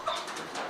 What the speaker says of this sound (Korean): 여기 비둘기도 있고.